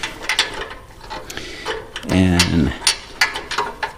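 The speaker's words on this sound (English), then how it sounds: "I use a spark plug socket," Spark plug socket on a ratchet working loose the spark plug on a Hustler Fastrak SD zero-turn mower, giving a short burst of quick mechanical ratcheting clicks amid faint ticking and a brief word of speech.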